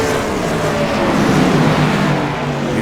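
Race cars in an All Pro series event roar around the Richmond track, a loud continuous engine drone that swells slightly as the pack passes, with no voices.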